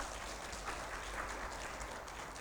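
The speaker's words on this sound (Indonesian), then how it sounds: "Tepuk tangan dong." Audience clapping at a halal award event, a brief, faint, continuous wash of applause heard from a distance.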